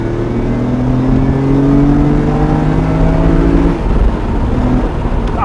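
A G80 BMW M3 engine pulls hard under heavy throttle with the windows down, its rising harmonic tones sweeping upward loud and close for several seconds before a brief shift and renewed climb.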